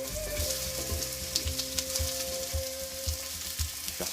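Onions sautéing in olive oil in a big pot, a constant hissing sizzle with rhythmic low stirring thumps and a faint steady tone, no talking.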